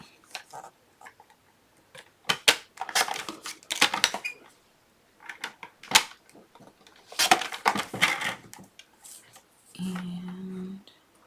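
Scissors snipping out a stamped paper piece for a card, a run of crisp cuts in short bursts with pauses, close and clear, ending in a faint low hum.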